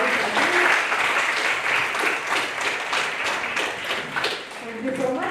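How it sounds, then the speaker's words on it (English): Audience applause at a mediation competition final, a full, continuous burst of clapping with voices murmuring underneath. "let's give a big round of applause"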